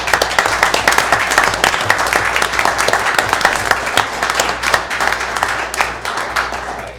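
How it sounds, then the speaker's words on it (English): Sustained applause from a sizable crowd, dense steady clapping that holds loud for several seconds before tapering slightly. "let's give them a big round of applause"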